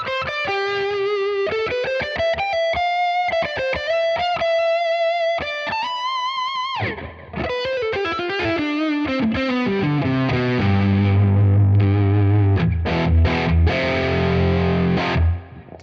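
Electric guitar played through a Tone King preamp and pushed with a drive pedal, first clean arpeggiated single notes, then heavier distorted strummed chords that grow fuller and louder, alone without talk.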